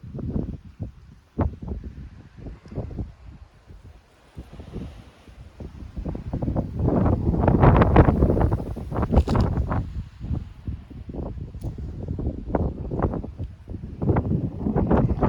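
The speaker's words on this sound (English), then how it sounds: "very, very breezy on the island of Kos" Strong wind gusts sweep across the old fortress on the island of Kos, buffeting the microphone with a continuous low rumble that swells and ebbs in loud surges, with no talking.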